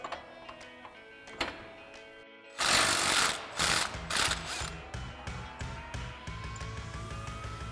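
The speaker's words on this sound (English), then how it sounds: "we're going to grab our 33mm socket on our impact and run that off." An impact wrench with a 33mm socket runs the upper pitman arm nut off a Jeep Wrangler JK. A loud rattling burst comes first, then more hammering bursts that settle into a rhythmic ratcheting, close by in a workshop.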